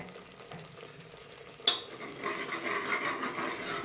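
Ginger garlic paste and masala frying in oil in a pan, with one sharp utensil clank, then a rising close sizzle and stirring scrape that carries on steadily to the end.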